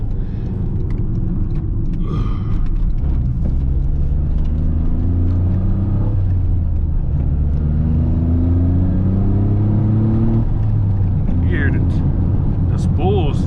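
Turbocharged, heavily modified GR Corolla at night, its engine pulling hard through rising revs in repeated sweeps. Steady cabin rumble is heard close up, with a brief high whistle near the end and occasional voice sounds.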